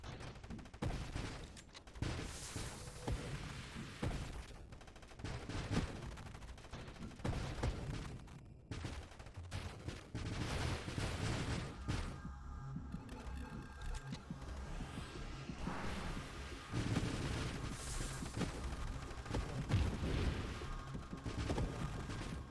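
Missiles fire in a space shooter game as rapid rattling bursts of shots, dense and fairly continuous over electronic game sounds, with brief lulls between volleys.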